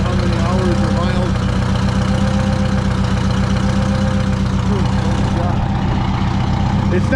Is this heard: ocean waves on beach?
no